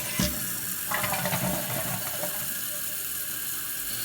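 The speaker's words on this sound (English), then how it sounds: "It sounded like it flushed pretty good." A Kohler toilet flushes with a steady rush of water and gurgling, close and continuous, with a brief mechanical click near the start and no talking.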